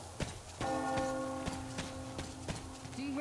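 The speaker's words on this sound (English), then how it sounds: "Do you hear that bell?" A bell ringing in the video game Metro Exodus, a resonant tolling with lingering tones and regular metallic strikes, faint and distant, with a brief voice-like sound near the end.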